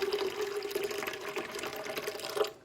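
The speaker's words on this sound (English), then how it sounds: "So I'm gonna add like a half a cup of water." Warm water from an electric kettle pours into a blender for a smoothie, a quiet, steady trickle with a faint rising tone that lasts under three seconds before it stops.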